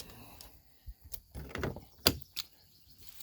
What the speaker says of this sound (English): Let's open up this door.